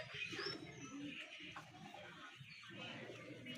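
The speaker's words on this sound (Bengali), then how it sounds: "কীভাবে তাকাইতেছে কবুতরগুলোর দিকে" Pigeons coo softly nearby, a few low rolling calls over faint background noise with scattered light chirps.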